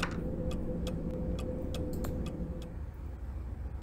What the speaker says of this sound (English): I opened the door and I could hear a clock ticking